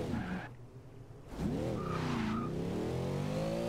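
Front wheels of a tuned 2012 Chevrolet Escalade spin and squeal on a downhill road start in Forza Horizon 2, a wavering tire screech over a steady engine drone that grows louder after a short lull.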